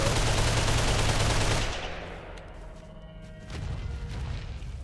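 Dense, continuous rapid gunfire from a gun fired off a creature's back in the video game Ark, loud and close, then dropping to rumbling game ambience before another burst of firing.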